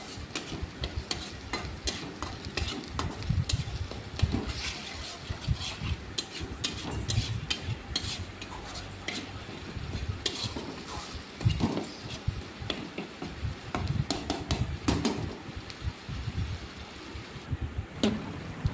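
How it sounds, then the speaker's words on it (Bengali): Spices and turmeric get stirred in a frying pan, a busy, continuous scraping and clattering of a utensil against the pan over a bed of sizzling oil, close and fairly loud, with no voices. "এবার হলুদ দিয়ে আবার একটু নাড়াচাড়া করে দেবো।"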